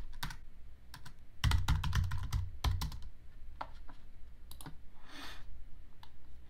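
Typing on a computer keyboard while searching a website: bursts of quick clattering keystrokes, dense in the first seconds, then scattered single clicks, close and alone.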